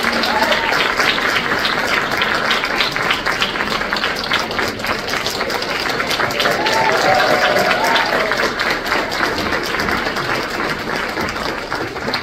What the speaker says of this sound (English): please give a big round of applause for Brian Baumgartner